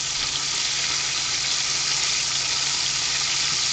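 Food frying on a Blackstone flat-top griddle while a BLT with avocado and egg is cooked, giving a steady, even sizzle that holds at one level throughout, close and moderately loud with no voices.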